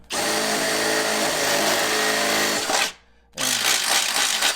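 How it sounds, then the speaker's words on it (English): A power drill with a W drill bit enlarges a pilot hole for rock sliders on a Jeep Wrangler, whirring loudly and continuously, cutting out briefly, then spinning up again. "We're going to step up to a W drill bit."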